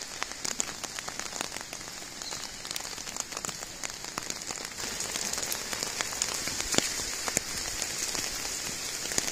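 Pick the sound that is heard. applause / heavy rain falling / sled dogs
heavy rain falling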